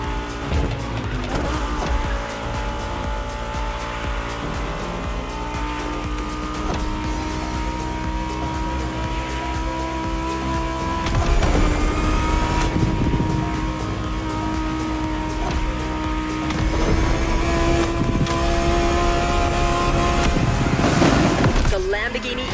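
A car accelerating hard in the racing game The Crew Motorfest, a loud sustained engine note rising through gears with shifts, tire squeal and skidding, while a narrator talks over it.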